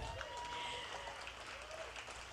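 Steady clapping from an audience at a fundraising event, acknowledging platinum sponsors; dense, even applause running throughout without a break.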